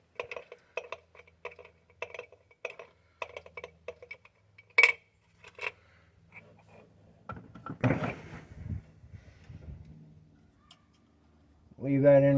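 An air cleaner comes off an Edelbrock 500CFM carburetor in a workshop: a string of light metallic clinks and taps, then a louder clatter and a closing rumble, all close and intermittent against quiet.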